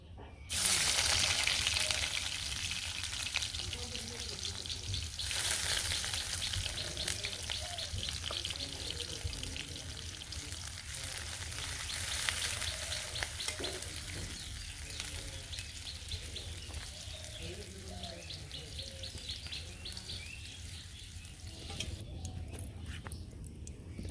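Onions fry in hot oil in a pan in a village kitchen, a steady close sizzle that bursts loudly at first and then settles into a softer continuous crackle, with faint background voices.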